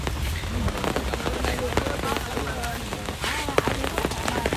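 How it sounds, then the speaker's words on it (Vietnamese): Heavy rain pours during a storm at a rubber plantation, a dense, steady patter with scattered sharper drops, while people talk close by. "Rồi mưa luôn rồi, mưa luôn"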